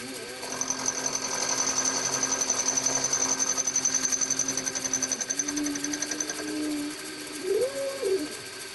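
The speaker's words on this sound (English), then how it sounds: "Using a 3/8 cutter to cut a 3/8 wide part." A milling machine with a 3/8 inch cutter cuts a 3/8 inch wide engine part, giving a steady whining machining drone with a high tonal hum that shifts near the end as the pass reverses.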